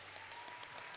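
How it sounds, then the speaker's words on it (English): Faint, steady applause rises from the crowd at an indoor hockey rink during a boys' high school game between Park of Cottage Grove and White Bear Lake, greeting an official getting back up. "perhaps the biggest round of applause we'll have for an official in a rink like this"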